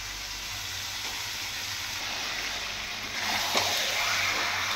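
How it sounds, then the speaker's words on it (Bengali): Meat fries in a spice paste in a pan, a steady, soft sizzle holding throughout, growing a touch louder toward the end with a faint clink of stirring. "মাংসগুলো দিয়েও কিন্তু আমি আরও ভালো করে প্রায় 10 থেকে 15 মিনিট আমি আরও মাংসটা কষাবো"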